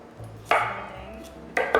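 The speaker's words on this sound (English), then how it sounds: "Literally just take your carrots, cut them in large pieces like this" A knife chops carrots into large pieces on a board for a vegetarian vegetable stock, with three sharp, close strikes: one, a pause, then two in quick succession.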